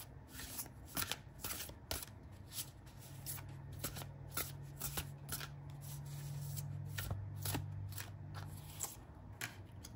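Moonology oracle cards are shuffled in a steady run of soft, papery riffles and slides, close and fairly quiet, continuing without talk for the whole stretch.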